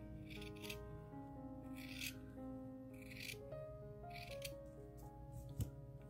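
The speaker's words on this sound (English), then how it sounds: "The next way to cut your worms is to use a pair of scissors and to just" Quiet, repeated scissor snips cut through wool strips for rug hooking, faint and close, over a steady hum of soft background music.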